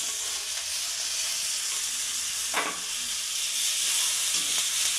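Tomatoes fry in hot oil in a pan for a bean curry, a steady close sizzle and hiss with a couple of brief stirring scrapes, no voices.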